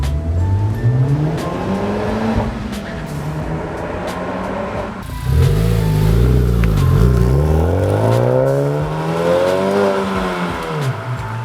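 A Honda Civic Type R with an HKS aftermarket exhaust revs and roars up close, pitch rising and falling in several pulls, with a brief drop before a louder burst of acceleration.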